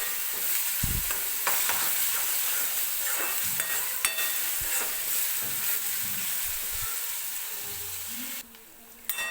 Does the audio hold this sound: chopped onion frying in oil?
yes